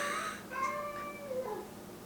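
A pet cat named Jumbie meows several times indoors, a series of short, drawn-out tonal cries close by over a quiet room.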